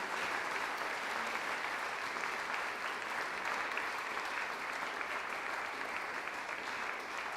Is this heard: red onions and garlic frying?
no